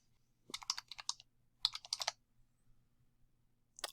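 Computer keyboard keys clicking in quick bursts, a run of several close taps, a second cluster after a short pause, then a few more at the end, crisp and near in an otherwise quiet room.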